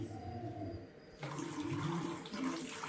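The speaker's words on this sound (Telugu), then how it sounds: "మళ్ళీ ఈ వాటర్ ఇక్కడ పోయాలండి స్లోగా" Water pours steadily and close by onto boiled raw turmeric roots in a basket, starting quietly then growing fuller and louder partway through, with no talking.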